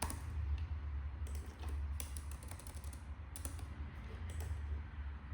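Computer keyboard keys clatter steadily while Java code is entered, a continuous close-up patter of clicks with a few sharper keystroke bursts over a low background hum.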